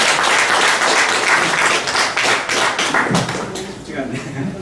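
An audience applauding at the close of a lecture on Jeju history, loud, dense clapping from a hall that thins toward the end, with some speech mixed in.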